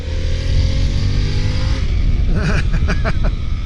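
A 2023 Harley-Davidson Pan America Special motorcycle engine pulls loudly and steadily under acceleration, with rising engine tones and a few sharp rhythmic surges near the end, heard close from the rider's position with wind noise.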